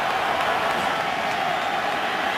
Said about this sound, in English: the crowd rising to the occasion